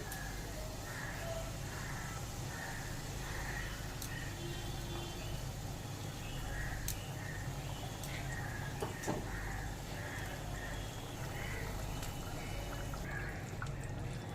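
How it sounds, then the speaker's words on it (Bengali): Fish curry broth with papaya and rohu bubbles in a pan, a faint, continuous burble of popping bubbles over a steady low background hum. "ঝোল ফুটে উঠেছে"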